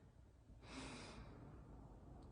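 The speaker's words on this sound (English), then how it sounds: "So breathing in" A single soft, quick inhalation through the nose during a breathing exercise, brief and close, in an otherwise quiet room.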